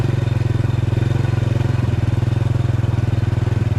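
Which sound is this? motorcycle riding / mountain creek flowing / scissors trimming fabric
motorcycle riding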